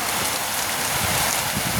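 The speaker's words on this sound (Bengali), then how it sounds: "আজকে আমাদের এখানে অনেক বৃষ্টি হচ্ছে, পুরো জল হয়ে গেছে" Heavy rain pouring steadily outside a shop during a downpour that has flooded the street, a dense, continuous hiss close by with no talk.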